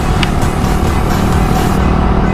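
A Honda Wave 110i motorcycle engine fitted with a stock-style Dream ECU revs hard and steadily, a loud close-up drone with a constant roar and no pauses, no one speaking.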